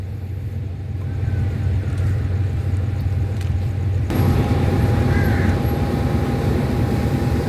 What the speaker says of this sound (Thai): สำหรับตอนนี้นะก็จะเป็นการถอย ริ้วขบวน 257 เข้ามาต่อกับรถจักร GEK 4026 ที่รอทำขบวนนะ